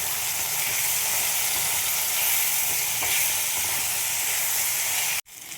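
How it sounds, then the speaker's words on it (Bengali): Vegetables with green chilli frying in a pan, a loud, steady sizzle and hiss that runs unbroken for several seconds, then cuts off abruptly near the end. "এগুলো একবারে ভাজা ভাজা করে নেব। দেখো, দিয়ে দিলাম কাঁচা লঙ্কা।"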